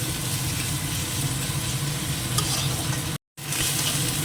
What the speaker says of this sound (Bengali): এক চামচ আদা বাটা আর এক চামচ রসুন বাটা তো এটা দিয়েও আবার একটু কষিয়ে নিই ভালো করে ভেজে না নিলে কাঁচা গন্ধটা থেকে যাবে